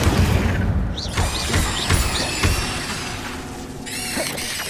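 Expelliarmus and Incendio spells cast in the Hogwarts Legacy video game crackle and burst in a rapid string of booms, whooshes and crashing impacts, loud and dense over a busy battle din.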